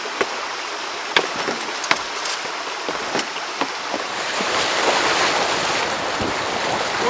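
A small boat runs through tidal sea rapids on the White Sea near the Kovda river, with continuous rushing water and surf roaring close by and occasional sharp splashes and knocks against the hull.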